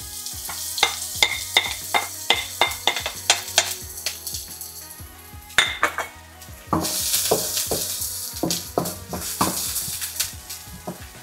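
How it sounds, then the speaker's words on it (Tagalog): Onions (shallots) sauté in hot cooking oil for pork bistek, a steady sizzle broken by repeated sharp clacks and scrapes of a utensil stirring against the pan, close and fairly quiet, with no talking. "Kapag mainit na yung mantika nyo, mag-gisa na kayo ng sibuyas."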